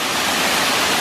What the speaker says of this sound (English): So Philine wants to get a sexy photo under the waterfall